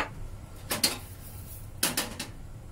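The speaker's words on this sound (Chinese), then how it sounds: "咁就將啲菜脯末咧就倒落去，就去咧爆香下佢" Chopped preserved radish dry-fried in a red-hot wok with no oil: two separate bursts of scraping and tossing, about a second apart, fairly close and moderately loud over a quiet background.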